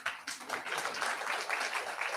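Steady, dense clapping from an audience at a youth dialogue event, continuous and fairly close throughout with no voices standing out.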